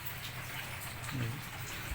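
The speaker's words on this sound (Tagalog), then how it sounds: "Lakas ng ulan dito sa bahay." Heavy rain pours steadily inside a house, a dense, even hiss of falling water with a low rumble underneath, constant and close, no voices.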